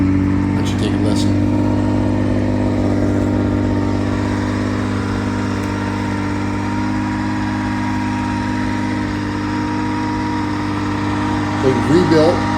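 A cold 1978 Porsche 911 SC with a rebuilt air-cooled flat-six idles steadily on a chilly day, a low even drone holding throughout with a brief stir of other noise near the end.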